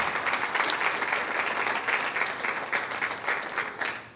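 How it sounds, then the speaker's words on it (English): Steady applause fills a news conference room as the audience claps for a school board, a dense wash of hands that holds at an even level throughout with no talking over it. "Let's give them a round of applause if we can."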